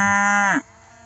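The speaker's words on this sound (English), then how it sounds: "Boomer's kid, young cow, Dancer, and of course they're all excited," A young cow gives a single loud, drawn-out moo close by that drops in pitch and breaks off, leaving quiet background.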